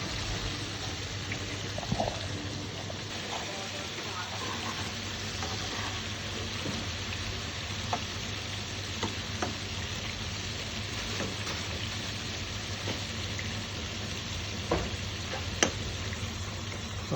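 Prawns frying in a pan for a prawn roast, a soft continuous sizzle with scattered faint pops and light scraping, steady and fairly quiet, with no voice over it.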